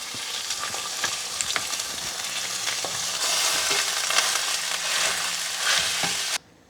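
Ground beef browning in a pan over medium heat with a tablespoon of olive oil, a continuous close sizzle and crackle with occasional scraping stirs, ending abruptly.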